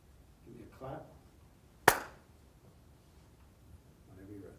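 A clapperboard snaps once on a film set, a single sharp, loud crack with brief voices just before and after it.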